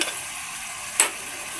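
Chicken biryani ingredients with green chillies and bay leaves sauté in a hot pan, giving a steady close sizzle; one sharp stirring scrape cuts in about a second in, with no talking.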